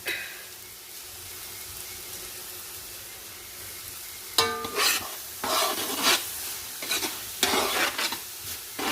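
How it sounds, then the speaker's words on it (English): Puerto Rican–style peasant's rice sizzles in a pan while being stirred: steady close frying hiss, then scraping stirs and clatter in the second half, with no speech. "once this is sizzled down"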